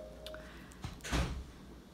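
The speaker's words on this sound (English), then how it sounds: "That was my daughter going out the door." In a quiet home, a door opens and closes as someone heads out, leaving a faint click and rattle followed by a soft thud, distant and low.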